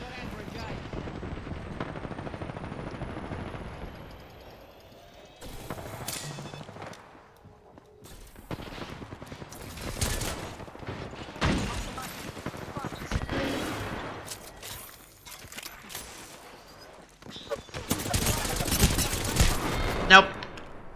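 Apex Legends gunfire comes in scattered automatic bursts and single shots, some loud and others distant, separated by quieter gaps, with a player's voice speaking at times.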